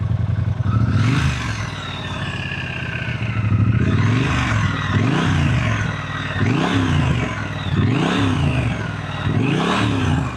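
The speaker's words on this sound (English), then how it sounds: "I won't rev it too much because it is literally a brand new bike" A brand-new 2025 Triumph Speed Twin 1200 RS motorcycle engine at idle, blipped through a series of short, loud revs that rise and fall in a steady rhythm, close by and with no talking.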